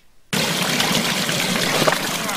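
Water pours down a toy waterfall, starting abruptly after a brief quiet moment and then rushing in a steady, close, splashy stream to the end.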